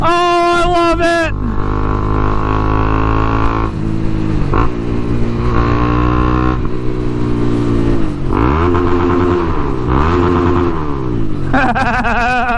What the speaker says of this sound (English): she sounds like a dirt bike